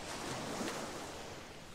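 Soft, faint wash of waves surging through the ground in the video game Elex, a steady hissing surf with gentle swells and no voices.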